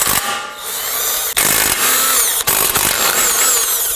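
Power tool whirring loudly and steadily as it loosens two 17mm nuts and a 17mm bolt on the front lower control arm ball joint of a 2018-2024 Toyota Camry 2.5L, with two brief dips where the trigger eases.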